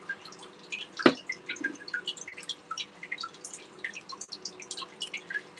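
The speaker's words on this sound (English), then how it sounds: "Air bubbles." Water drips and bubbles pop and trickle in a hang-on-back aquarium filter, with a dense run of small close drips and gurgles and one sharp splash near the start.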